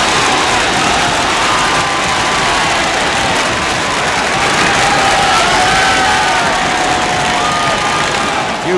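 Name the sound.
football crowd cheering a Rangers goal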